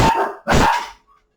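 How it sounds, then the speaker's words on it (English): A dog barking nearby, two loud, sharp barks in quick succession followed by silence. "This dog's barking, Capricorn."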